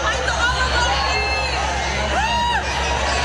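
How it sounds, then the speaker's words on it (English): An audience at a Bernie Sanders speech reacts with a loud, steady crowd roar, cheering and shouting voices layered throughout and rising cries standing out near the end. "you'll hear the crowd reaction"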